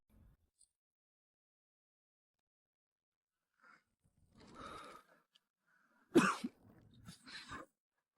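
A man coughing, a few harsh throaty bursts separated by short pauses, with a sharp loud cough near the end followed by rougher rasping breaths, close and otherwise quiet.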